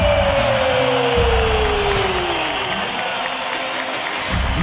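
A big Moscow arena crowd roars and applauds for Fedor Emelianenko's win over Jeff Monson, a loud, continuous wall of cheering with a descending tone sweeping through it early on.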